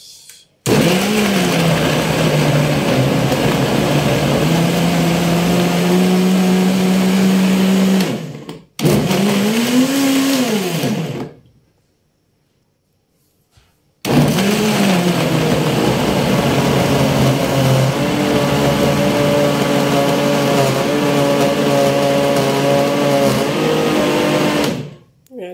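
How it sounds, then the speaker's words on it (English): A blender whirring coconut pieces with two cups of water to make coconut milk, loud and close, running in long bursts that rise and fall in pitch, stopping briefly and then starting again. "So it's time to blend our coconuts for the coconut milk."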